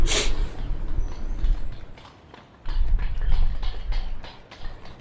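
Horse hooves clip-clop along in The 39 Steps video game as a visitor arrives by horse in a 1914 setting, an irregular clatter of steps under ambient game background that pauses briefly before resuming.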